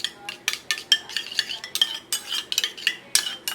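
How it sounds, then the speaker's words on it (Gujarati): A metal spoon stirs a spoonful of yogurt in a small bowl before it goes into warm milk, clinking rapidly and rhythmically against the sides, close and clear, with no speech. "એ દહીંને આ રીતે બરાબર મિક્સ કરી"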